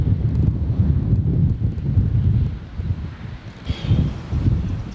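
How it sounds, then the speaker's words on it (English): Gusty wind of about 20 miles an hour constantly buffets the microphone beside a fast-running river, a low, rumbling roar that rises and falls. "A little windy, wind's kicking up about 20 miles an hour."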